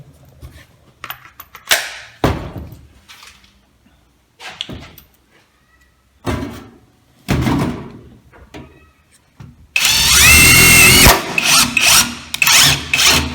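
An Einhell TE-CW 18 Li cordless impact wrench fitted with a Phillips bit drives a screw: several short loud bursts with gaps between, then a sustained hammering rattle near the end.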